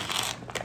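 Kettle-cooked honey jalapeño potato chips crunch in a couple of quick, close bites, faint and crisp with no talking.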